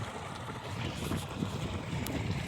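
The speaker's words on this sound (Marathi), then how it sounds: "आणि हे पाणी चालू आहे" Irrigation water runs steadily through a farm field where small coriander is sprouting, a continuous broadband rush with light wind buffeting the microphone outdoors, no talking.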